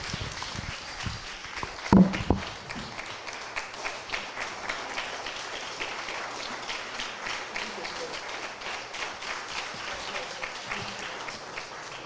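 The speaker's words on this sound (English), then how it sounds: "Can you please give them both a round of applause?" An audience at the Freedman's Bank Forum in Raleigh, North Carolina, applauds steadily for about twelve seconds: even, moderately quiet clapping from a seated crowd, with one louder thump early on.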